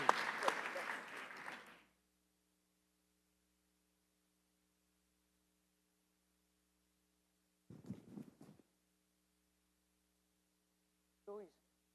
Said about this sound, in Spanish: Un aplauso para el viceministro Jaime Urrego Rodríguez